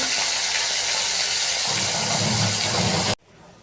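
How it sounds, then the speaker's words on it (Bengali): Small parshe fish sizzle steadily in hot frying oil, a loud continuous crackling hiss that cuts off abruptly near the end. "একে একে মাছ আমি ভেজে নেব।"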